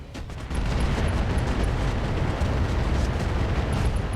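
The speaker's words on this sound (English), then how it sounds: "Actually, we can fire the SRMs." SRM missiles fire in RogueTech BattleTech, a sudden loud launch that swells into a sustained roaring, rumbling barrage lasting several seconds.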